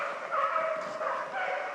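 Fauve de Bretagne hunting dogs bark and yelp in a rabbit hunt as they attack, a fairly distant chorus of overlapping cries rising and falling in short bursts.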